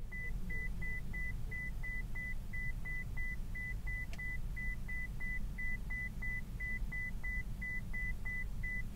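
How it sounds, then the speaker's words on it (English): An i-box Dawn alarm clock sounds its alarm as a fast, steady train of short, high electronic beeps, repeating evenly and fairly close over a low background rumble, with no talking. "When the alarm activates, you can press the snooze button to snooze the alarm for 9 minutes."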